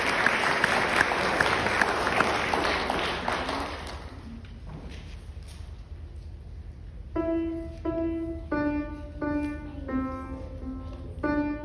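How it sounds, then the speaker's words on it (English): Audience applause at a school piano and guitar recital, a dense burst of clapping that thins out over a few seconds, followed by a few plucked or struck notes ringing in the room. "give them a good round of applause"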